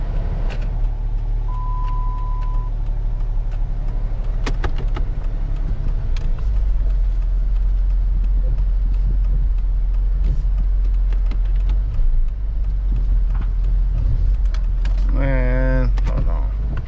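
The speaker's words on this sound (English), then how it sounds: "I don't know, this car seemed promising." A car's engine running, a low steady rumble through most of the stretch with scattered clicks and thumps, and a brief warbling tone near the end.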